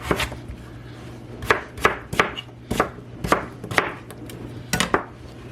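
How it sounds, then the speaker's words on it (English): A food processor pulses through potatoes in a run of sharp, irregular chopping hits, close and fairly loud, with brief pauses between the bursts. "I don't want to overfill this food processor. So, I'm going to give it a pulse."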